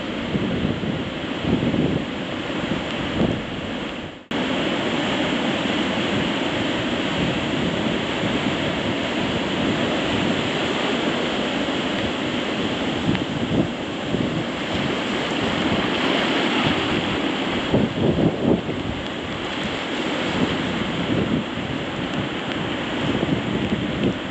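Storm surf on the Vancouver Island coast roars as heavy waves break on the shore, a loud, continuous wash of churning water that swells and surges, with wind buffeting the microphone and no talking.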